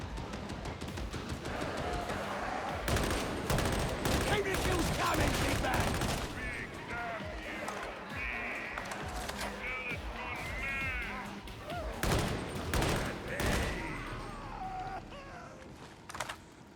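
Rapid autogun fire in Warhammer 40,000: Darktide comes in repeated sharp bursts amid chaotic combat noise and clanks, with occasional voices in the mix.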